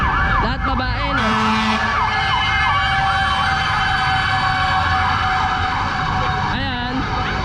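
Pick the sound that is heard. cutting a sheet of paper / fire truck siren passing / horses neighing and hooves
fire truck siren passing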